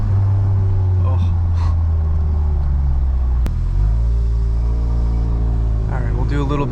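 A Mk7.5 Golf R with a loud straight-piped exhaust rumbles deep and heavy while driving through Boston streets, the drone dipping briefly before climbing again, with small bursts of other noise on top.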